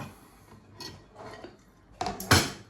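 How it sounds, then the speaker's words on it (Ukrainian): A few soft clinks of crockery, ending in two sharper ceramic knocks as a plate is set down on top of a bowl of tomato appetizer, close by, no talking. "Зараз зверху ложу тарілочку якусь."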